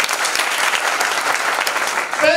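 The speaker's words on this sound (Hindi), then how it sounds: "ताली बजा देंगे।" Audience applause at a seminar program, a dense sustained wash of many hands clapping throughout, loud and steady with a few voices rising near the end.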